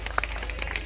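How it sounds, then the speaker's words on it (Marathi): Audience applause at a school annual day celebration in Pune, a short burst of steady clapping from a crowd in a hall. "एकदा जोरदार टाळ्या झाल्याच पाहिजे."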